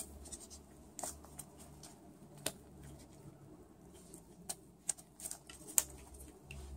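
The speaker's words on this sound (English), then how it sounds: "I'm back to cut my chocolate and amber soap." A loaf of chocolate and amber scented soap, still fairly soft, is cut, giving a quiet, close scraping with scattered soft ticks and taps over faint background hum, with no talking.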